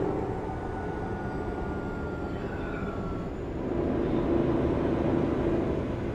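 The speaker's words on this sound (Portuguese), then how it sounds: "Quando ele liga o retarder dele aqui, parece uma turbina de avião." A Volvo truck's retarder gives a steady, loud mechanical roar like a jet turbine, droning continuously and swelling slightly in the second half, with no voices.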